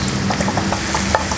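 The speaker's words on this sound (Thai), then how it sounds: "ตั้งกระทะใส่น้ำมันค่ะใส่น้ำมันที่กระทะประมาณสัก3 ช้อนโต๊ะนะคะตามด้วยผัดกระเทียมค่ะ" Garlic stir-fried in about three tablespoons of hot oil in a wok, a steady close sizzle with faint scraping stirs and light clinks throughout, no voices.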